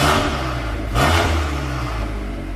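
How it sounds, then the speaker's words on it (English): A tuned Volkswagen Golf R MK8 with a Stage 2 remap, engine cold, gives a steady idle rumble and then a short throttle blip in race mode, swelling briefly near the one-second mark before settling back to idle. "Put it in race mode to give it a slight blip."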